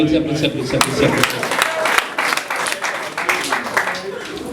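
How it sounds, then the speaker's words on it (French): An audience at a comedy festival in Goma applauds, a burst of clapping mixed with laughter and talking voices. "applaudissez."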